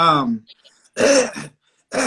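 A man clears his throat and coughs in a few harsh bursts, close and loud, with brief pauses between.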